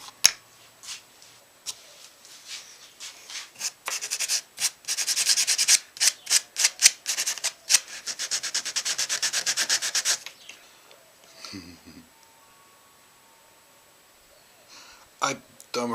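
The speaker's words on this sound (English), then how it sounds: "Let that dry for a minute or two before we sand it back." A guitar head plate with a logo inlay being sanded back by hand, a run of rhythmic, close, raspy back-and-forth strokes that speed into a fast steady scrub and then stop. Light handling noises follow, and a voice talks in places.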